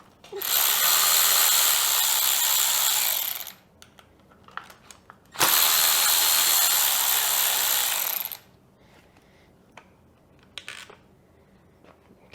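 Power tool spinning off fasteners on a Yamaha YZ 250FX dirt bike, two loud sustained whirring bursts of several seconds each, followed by small clicks and clinks of parts and tools handled close by.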